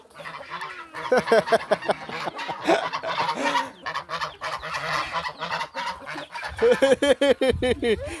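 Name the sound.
chickens clucking while being fed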